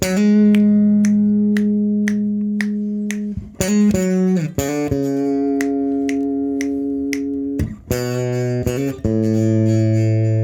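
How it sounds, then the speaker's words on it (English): Slap bass guitar playing a run: plucked notes pulse steadily beneath regular sharp snaps, shifting pitch several times in a short run, loud and close, with brief gaps between phrases. "And then we finish with that little bass run"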